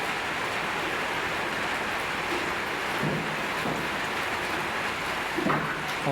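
Rain falls outside in late afternoon as a dense, steady hiss of pattering drops at an even level, with faint dull knocks now and then and no talking.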